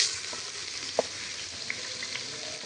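Onions frying in a pan for a spiced rohu fish roe bhuna, with a steady soft sizzle throughout and a few faint clicks of stirring, no voices.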